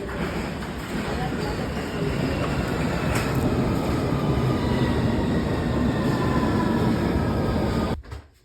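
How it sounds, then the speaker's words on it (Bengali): A train pulls into a London station with a loud, steady rumble of wheels on rails, a brief squeal near the middle, and the noise cutting off abruptly at the end. "দেখেন চলে আসছে আমার ট্রেন আসতেছে চলে আসলো ট্রেন"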